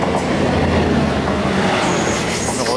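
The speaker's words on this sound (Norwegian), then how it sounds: "Her har vi IC4-toget." A Danish IC4 passenger train rolls past close by, a loud continuous rumble of wheels on rails with rhythmic clatter and a thin squeal rising near the end, with no voices.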